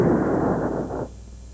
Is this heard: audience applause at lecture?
no